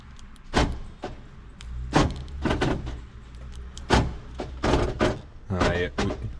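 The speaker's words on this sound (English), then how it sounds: "it sounds like the rear actuator's not closing properly" A Holden Barina's rear door lock actuator, failing to close properly, fires in a series of sharp mechanical clicks and clunks, loud and close, about ten bursts spaced irregularly and sometimes in quick pairs, with a quiet background.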